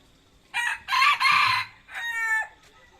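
A rooster crows loudly and close by, a single drawn-out call in several rising and falling segments, with quiet surroundings.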